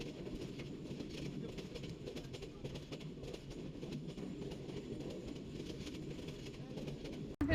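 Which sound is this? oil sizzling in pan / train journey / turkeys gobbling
train journey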